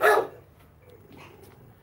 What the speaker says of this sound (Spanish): Los perros no dejan escuchar.